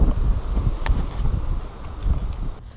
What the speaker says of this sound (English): You can probably hear it is unbelievably windy and very frustrating.